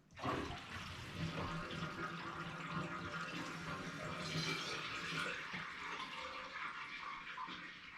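Water drains steadily from a half-full bathroom sink after the plug is pulled during a budget faucet install. It is a continuous, fairly loud rushing and gurgling wash that lasts about eight seconds with no pauses.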